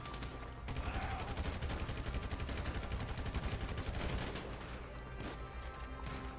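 Dense, sustained gunfire from Grand Theft Auto 5, rapid automatic bursts overlapping into a continuous loud barrage for most of the span, easing slightly near the end.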